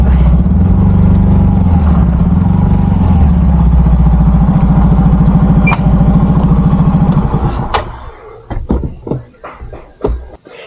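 Motorcycle engine idling close by with a steady low rumble, then cutting off, leaving irregular clatter and knocks afterward; no talk.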